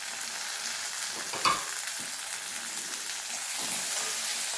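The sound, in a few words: sautéing capsicum and tomato with moong sprouts in pan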